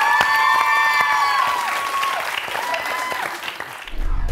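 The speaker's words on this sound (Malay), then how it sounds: "Okey, beri tepuk tangan." Studio audience applause on a pop entertainment show, sustained clapping with some crowd cheering, tonal music running over it and a brief voice near the end.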